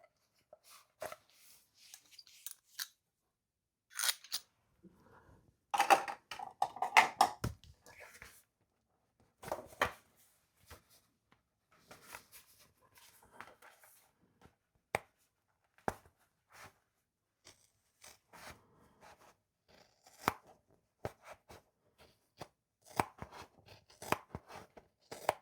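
Scissors snip through fabric and stabilizer while a zippered bum bag is sewn, giving short, sharp cutting strokes in irregular bursts, close and fairly quiet, with pauses between and no talking.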